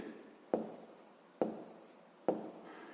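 A pen or pencil writes numbers by hand in a math exercise, giving three short scratching strokes at even intervals, each starting with a sharp tap and fading quickly. The strokes are close and fairly quiet against silence.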